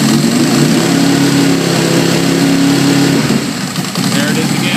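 A car engine running roughly with a steady, loud drone that sputters and drops off toward the end as it stalls, close by with no talk.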